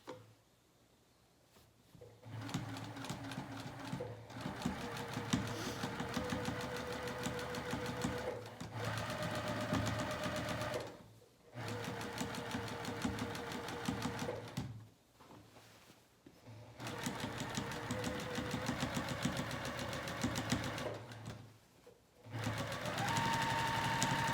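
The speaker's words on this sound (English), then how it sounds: "now I'm going to start sewing around the curve of my pocket" A sewing machine runs in several long stitching bursts with short pauses between them while it sews around the curved edge of a pajama pant pocket, a steady close mechanical whir.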